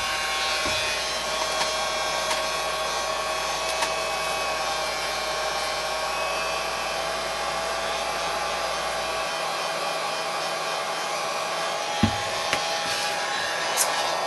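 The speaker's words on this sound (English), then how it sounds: "So I'm going to turn this on and I will show you that. So I just hit it's a Wagner, it works awesome." A Wagner heat gun set to a lower setting blows hot air while shrink-wrapping solid lotion bars, a steady close whooshing drone with a few faint clicks and bumps and no speech.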